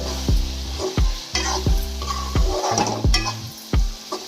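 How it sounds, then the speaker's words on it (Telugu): Chicken gizzard, heart and liver curry with cashews, tomato, onion, green chilli, ginger and garlic masala being stirred in a pan, a regular rhythm of about seven scraping spoon strokes over a steady sizzle, close and without speech. "ఇది మిశ్రమానంతా బాగా కలుపుకుందాం"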